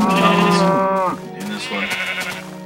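Sheep in Minecraft on Xbox bleating twice in close succession, a loud wavering call followed by a shorter one, close and clear.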